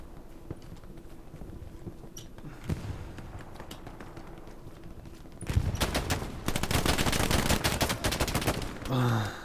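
Gunfire rattles in a Hell Let Loose tournament match, first as distant scattered shots under wind-like noise, then a loud, dense burst of rapid automatic fire close by for several seconds.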